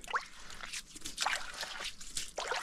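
Water trickling and dripping at a small mountain spring in the caatinga scrub of the Serra do Pai Mané, Brazil, with soft irregular drips and gurgles up close and faint.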